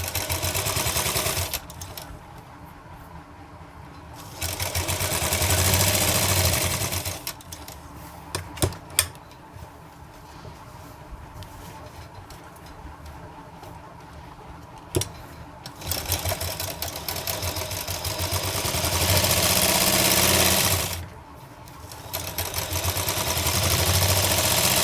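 An electric sewing machine stitches sleeves onto a girl's umbrella frock, running in several loud sustained bursts with short pauses and quiet gaps between them.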